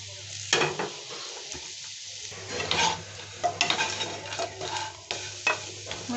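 Maggi noodles fry in a pan for spicy masala Maggi, with a steady sizzle under repeated stirring scrapes and clinks, close and moderately loud, no talking.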